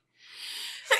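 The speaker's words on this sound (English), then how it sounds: "I'm going to sneeze, sorry." A single close sneeze that starts as a rising breathy intake and ends in a sharp burst, alone in a quiet indoor room.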